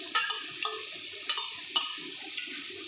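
Grated tomato goes into a pan of sizzling spice paste for a potol paneer curry, giving a steady hiss of frying with a few soft stirring scrapes close by.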